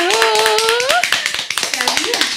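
Hand claps ring out on a French talk show set as a guest arrives, quick scattered taps close to the mic while voices call out and talk over them throughout.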